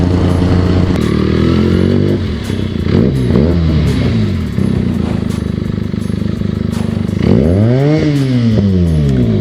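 A Royal Enfield Bullet motorcycle engine runs loud and close with a steady thumping idle, rising into revs twice as the throttle is blipped.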